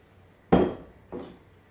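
Chopped onions tumble into a pan with a tablespoon of hot olive oil, giving two quick bursts of clatter and sizzle, the first louder and the second softer, each fading away, with no talking.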